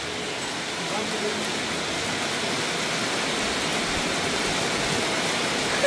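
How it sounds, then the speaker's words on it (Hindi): Hailstones fall outdoors during a heavy storm, making a dense, steady hiss and patter of ice and rain on surfaces, fairly close, with a sharp knock right at the end. "ये ओले पड़ रहे हैं, देखते किसके हाथ में आते हैं।"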